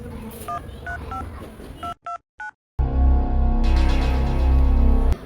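A phone being dialed to place a call: a quick series of distinct keypad tones close up, then a brief silence and a louder burst of line noise.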